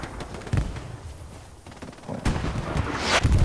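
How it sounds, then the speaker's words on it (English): Artillery shells exploding in a multiplayer war video game, with heavy booming blasts and crackling impacts at close range, several bursts rising to a loud climax near the end. "Oh, artillery got me."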